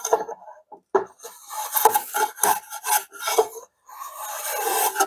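Rasping strokes of a Stanley hand plane across wood, several uneven passes up close, each a gritty scraping shave with short pauses between.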